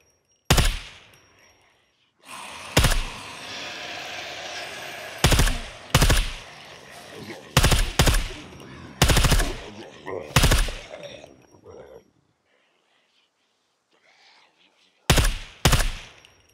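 Bursts of automatic gunfire in the video game SCUM rattle in short volleys with sharp single shots between, separated by brief pauses, loud and close.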